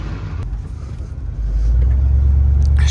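A GMC K2500 farm truck pulling off down the road, its low engine rumble building as it accelerates, steady and close from inside the cab.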